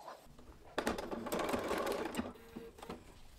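Sewing machine running a stretch stitch with the fabric strip pulled taut, a continuous close mechanical whir that starts up, runs, then slows in short bursts.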